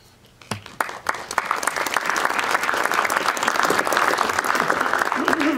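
Audience applause at a downtown waterfront and Greenway zoning planning meeting, starting with a few scattered claps and quickly swelling into sustained, dense clapping from a sizable crowd that continues steadily to the end.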